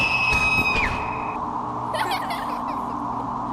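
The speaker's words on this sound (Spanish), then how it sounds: "El grito de Daisy fue su reacción a la muerte" A girl's high, shrill scream bursts out briefly in the flash analog-horror game Daisy Adventure, following thin whistling tones over a steady background hiss.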